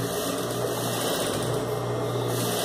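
A sewing machine runs steadily while reverse-stitching to attach a collar to a shirt, a constant close mechanical whir with no pauses throughout.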